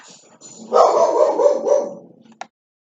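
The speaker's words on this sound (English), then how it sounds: "my dog started barking" A dog indoors gives one drawn-out bark or yowl lasting over a second, close and fairly loud, then a short sharp sound before silence.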